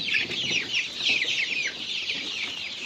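Chickens and chicks cluck and chatter continuously, several birds close by, with no talking.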